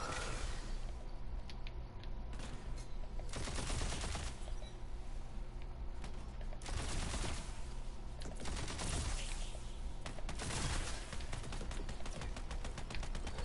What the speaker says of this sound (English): we finally got the Gatling version of a gun. Or more like a Gatling bow.